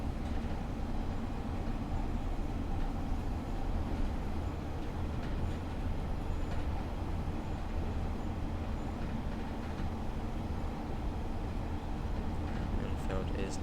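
Class 142 Pacer diesel multiple unit running in Train Simulator Classic, a steady continuous rumble of the railcar with rail noise, constant in level throughout and sitting under faint background detail.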